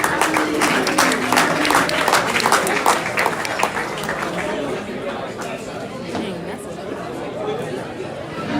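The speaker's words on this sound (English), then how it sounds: "give women's soccer another round of applause" A crowd at a college athletics event claps for the women's soccer team, applause loud at first then thinning into steady crowd chatter over several seconds.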